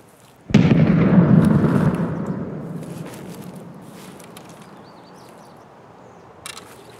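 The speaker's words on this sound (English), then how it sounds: "Still shooting happening over there." A single distant gunshot in the Escape From Tarkov video game, an abrupt heavy boom whose echo rolls and fades slowly over several seconds, followed late by a faint second report.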